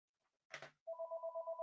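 A house telephone rings with a steady trilling electronic tone, pulsing rapidly after a brief rustle. It sounds close, moderately loud and is heard alone.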